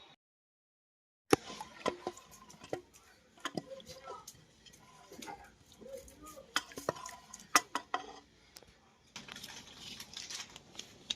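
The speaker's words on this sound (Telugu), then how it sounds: "నేను పప్పు తాలింపు చేస్తా" Dal is tempered in a pan with irregular metallic clinks and scrapes of a spoon against cookware, some sharp and loud, over a quiet kitchen background with faint voices.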